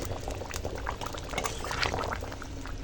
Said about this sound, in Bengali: দেখো মাংসটা ফুটছে